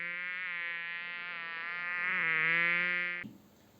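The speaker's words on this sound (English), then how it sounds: "I lay there hearing the buzz of a fly, but I couldn't find it anywhere." A fly buzzes steadily for about three seconds, a close and continuous whine that swells slightly louder before cutting off abruptly.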